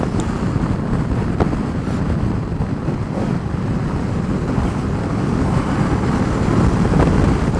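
Heavy, constant wind buffets the microphone while riding an Aprilia Caponord 1200 Rally motorcycle, a loud, roaring, unbroken rush that fills the whole stretch with no clear engine detail.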